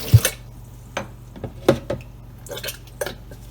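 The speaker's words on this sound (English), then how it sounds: "Just getting the rest of the water out." Standing water being scooped out of a dishwasher that won't drain: close, intermittent wet squishes and drips with a few light clinks, spaced irregularly, no talking.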